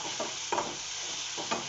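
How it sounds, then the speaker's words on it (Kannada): Eggplant pieces with homemade turmeric stir in hot oil, giving a steady soft sizzle with a few scraping stirs of a spatula against the pan. "ಸ್ವಲ್ಪ ಬಾಡಿಸ್ಕೊಳ್ತೀನಿ"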